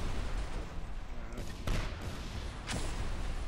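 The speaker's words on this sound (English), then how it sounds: "Oh wow, that was a lot of explosions." Explosions in the video game Just Cause 2, a few muffled booms and bursts scattered over a rumbling background of in-game noise.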